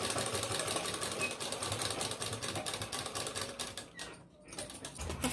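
A sewing machine stitches bead (moti) lace onto a dupatta in a steady, continuous close-up whir that briefly pauses near the end before resuming.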